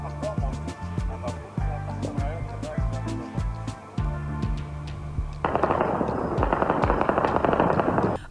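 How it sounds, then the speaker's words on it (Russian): Rapid bursts of distant celebratory gunfire crackle repeatedly, then a dense barrage of fireworks popping and crackling takes over, at night in Kabul. "Всюду в столице раздавались выстрелы и даже фейерверки."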